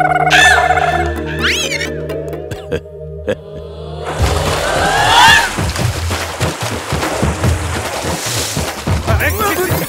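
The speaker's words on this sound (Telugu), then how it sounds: "వీడు పెద్ద పిల్లిని పెంచుతున్నాడు రా" A large cat gives several rising meows early on, followed by heavy crashes and thuds, while people talk over the commotion in a film scene.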